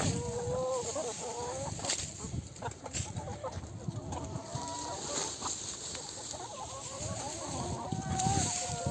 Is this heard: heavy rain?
no